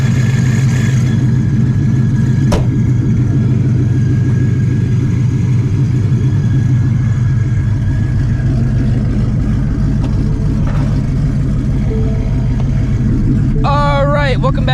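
Supercharged Shelby GT350 with an ESS G3R setup driving, its engine a steady low rumble throughout, close and loud, with a rising whine near the end and speech over it.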